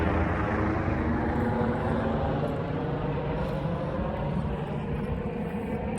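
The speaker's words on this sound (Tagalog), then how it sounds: "Oh, helicopter." A helicopter passes overhead above an outdoor oval walking track, a constant broad rumbling roar that stays loud and even throughout without talk.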